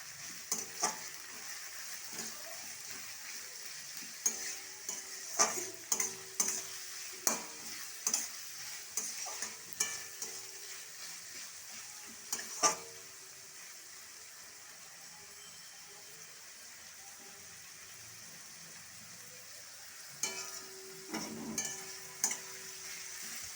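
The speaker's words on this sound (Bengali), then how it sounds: "পেঁয়াজটা ভাজা হচ্ছে আরও ভাজা হবে" Onions frying in a pan, sizzling and crackling with bursts of stirring and scraping, long quiet sizzle in between, close by, no talking.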